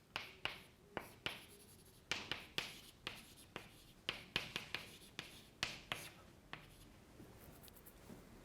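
Chalk or marker tapping and stroking on a board in a general relativity lecture hall, a quick series of sharp, close strokes in an uneven rhythm, with no talking.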